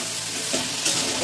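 Ginger-cumin paste stirred into spices with salt and turmeric in a hot pan, giving a steady soft frying sizzle with faint scraping of stirring throughout a short stretch, no voices.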